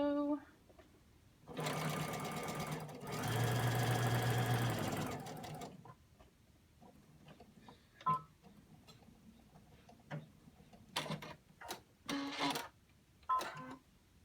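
A sewing machine stitches a quarter-inch seam on a scrub hat, running in one steady, fairly loud burst of about four seconds. Quiet handling clicks and a few spoken words follow.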